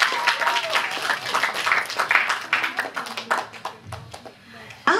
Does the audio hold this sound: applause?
yes